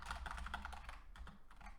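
Fast, light typing on a computer keyboard, a quick uneven patter of close keystrokes with no voices.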